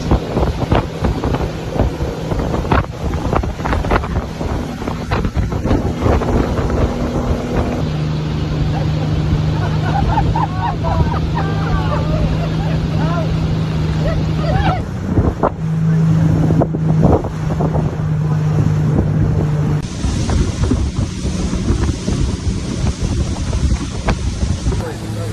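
A motorboat speeds along a river in Costa Rica, its engine droning steadily while strong wind buffets the microphone for the whole stretch, with brief faint voices.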